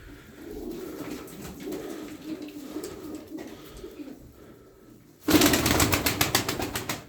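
A flock of thirteen tumbler pigeons coos softly and steadily at close range, joined near the end by a loud burst of wing flapping and rustling.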